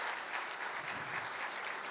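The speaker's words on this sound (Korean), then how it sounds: "우리와 같은 박수로 사랑합니다, 존경합니다 박수 해주시기 바랍니다" Church congregation applauding during a Sunday worship service, steady dense clapping from many hands filling the room, continuous and even throughout with no pauses.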